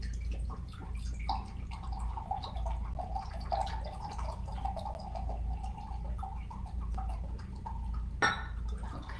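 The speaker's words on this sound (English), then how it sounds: "I'm gonna add 3/4 of a cup of the rice wine vinegar to" Rice wine vinegar pours into a measuring cup for quick-pickled red cabbage, a soft, continuous trickle and gurgle close by in a quiet kitchen, with a brief clink near the end.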